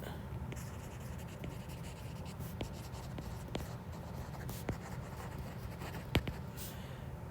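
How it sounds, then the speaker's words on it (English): A stylus or marker scratches across a screen while working chemistry problems, a steady faint stroking texture with a few sharper taps, over a constant low hum. "I need to move the screen so I can write on it"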